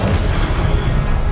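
Confringo blasting spell in Hogwarts Legacy, heard as a loud, sustained booming explosion with a thick low rumble that fills the whole moment without pause.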